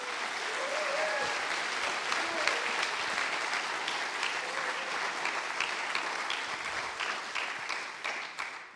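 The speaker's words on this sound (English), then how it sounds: "give them a really warm round of applause" Warm applause at a blockchain hackathon's closing ceremony, honoring the event organizers: a sustained, dense crowd clapping throughout, steady and fairly loud, tapering slightly near the end.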